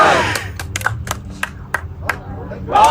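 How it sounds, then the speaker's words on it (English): Scattered crowd clapping at an outdoor countdown event, sparse separate claps spaced irregularly, heard under nearby talk and background noise. "Oh, they started clapping too early."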